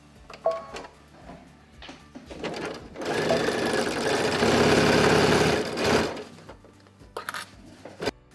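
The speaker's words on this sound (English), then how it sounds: "I'm going to sew each side with a 1/4-inch seam allowance." A sewing machine stitches the side seams of a lined tote bag with a quarter-inch seam allowance, a loud steady mechanical whir running about three seconds, framed by handling clicks and fabric shuffling before and after.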